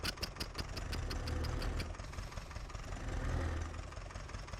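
A tractor engine idles steadily in Farming Simulator 19, a continuous low rumble with a faint knocking rhythm, fairly quiet and alone with no talk.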